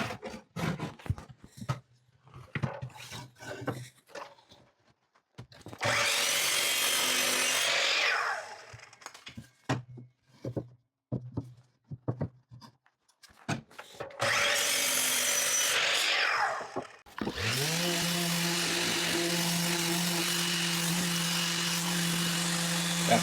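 A power saw cuts miters in wooden parts for outdoor furniture, with two loud sustained cutting passes and a motor whine that drops as it spins down, separated by tapping, knocking and handling of the wood.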